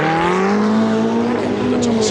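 A Ferrari Challenge race car at Monza locking its tyres, with a loud rising engine note and a sustained tyre squeal heard up close while a commentator talks over it.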